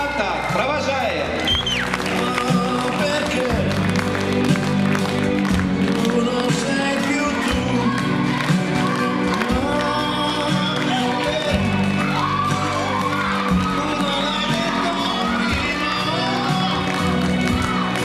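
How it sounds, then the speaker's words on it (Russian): A stage show audience claps and cheers as contestants leave the stage, steady applause mixed with shouts and whoops, while loud music plays throughout. "Еще раз ваши дружные аплодисменты, и мы провожаем наших конкурсантов."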